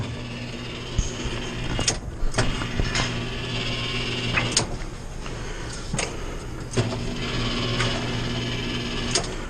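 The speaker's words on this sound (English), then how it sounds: "And then turn the machine back on." An Azkoyen Zensia coffee machine powers back up after a water pump replacement, giving a steady close mechanical hum broken by several sharp clicks and clacks, with no talk.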